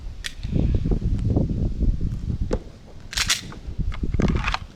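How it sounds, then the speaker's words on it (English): Shots from two handguns fired in quick alternation during pistol drills, sharp cracks scattered over a dense, rumbling outdoor background, with a tight cluster of louder reports near the end. "It is shooting with 2 guns at the same time."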